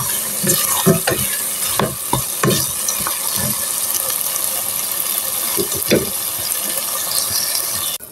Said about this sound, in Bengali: এখন আমি আরেকটু নেড়ে চেড়ে পানি দিয়ে দিব।